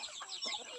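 Native chickens on a farm clucking softly, several short faint clucks in quick succession at a distance.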